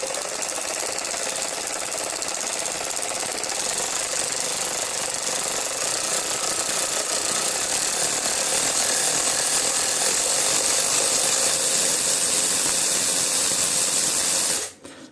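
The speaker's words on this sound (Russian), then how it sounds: "нажатием кнопки мы регулируем обороты. Давайте с маленьких до больших." Motor of a LUDYVI BL160 cordless ratchet wrench running continuously as it is stepped from low to high speed, a close steady whine that grows higher and brighter before cutting off abruptly near the end.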